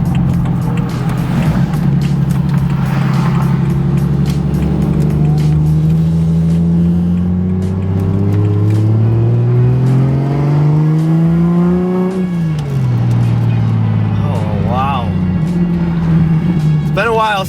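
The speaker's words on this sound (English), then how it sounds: "It's been a while since I've heard audible turbo noises." A single-turbo BMW 135i engine revs hard, its pitch sweeping up and down in long rising and falling pulls. Turbo whoosh and spool noise ride over the loud, steady exhaust drone throughout.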